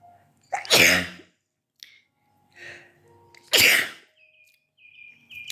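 Two loud, sharp sneezes a few seconds apart, each a sudden explosive burst, with faint small sounds in the quiet between them.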